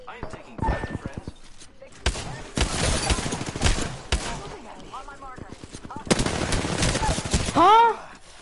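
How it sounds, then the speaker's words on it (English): Gunfire in the battle royale game Apex: several separate bursts of sharp shots, some rapid and clustered, others single cracks, with voices talking between the volleys. "I am taking fire, friends."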